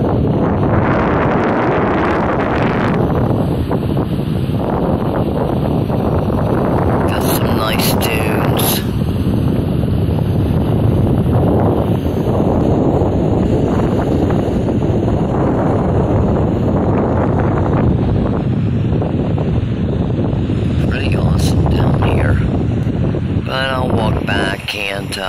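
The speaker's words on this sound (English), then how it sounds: "it's a little windy today" Strong wind buffets the microphone at a windy ocean beach in Palm Coast, Florida, a loud continuous roar with gusts throughout, and a voice is heard briefly over it.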